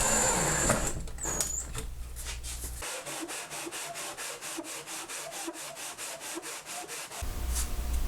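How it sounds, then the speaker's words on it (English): Wooden rim of a guitar body being sanded by hand, close rhythmic back-and-forth rubbing strokes in a quick even series, with bumps and handling noise before and after. "The reason I just sanded the rim over there was to give myself some fresh wood to glue to."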